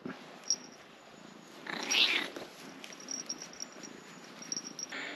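A cat purrs close by on new furniture in a farm setting, a soft steady rumble with a brief louder burst near the middle, heard alone without talk.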